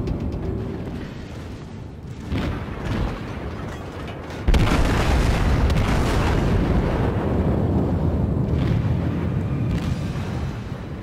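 Secondary guns of a Wyoming-class battleship firing in a naval combat video game: repeated booming blasts and rumbling explosions, growing louder and denser midway and sustained to the end.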